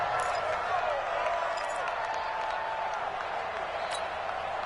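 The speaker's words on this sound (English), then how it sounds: "the crowd getting into it as we come up on a big 3rd down" Simulated stadium crowd from an NFL football video game, a steady broad roar of cheering and applause building ahead of a big third down, continuous and moderately loud with a commentator's voice running over it.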